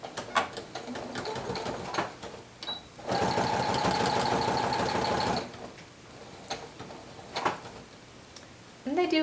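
A sewing machine stitches Velcro onto a homemade dog jacket, running steadily for a couple of seconds between short bursts of handling and clicks, close and fairly quiet.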